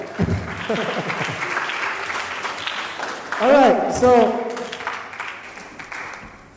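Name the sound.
audience applause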